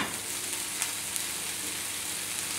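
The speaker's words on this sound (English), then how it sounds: "When you hear that sizzling sound, you know that your pan is nice and hot." Steady, crackling sizzle of bacon frying in a hot pan on high heat, continuous and close with small pops, no voices.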